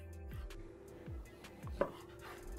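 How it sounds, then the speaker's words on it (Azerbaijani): A knife chops beef tenderloin into medium cubes on a cutting board, with four or five spaced, soft thuds of the blade striking the board, close and quiet. "Mən bu şəkildə kub doğrayacağım."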